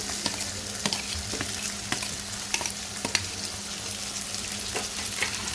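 Ginger, garlic and cumin paste frying in a pan, a close, continuous sizzle broken by regular scraping stirs of a spatula, with no voices.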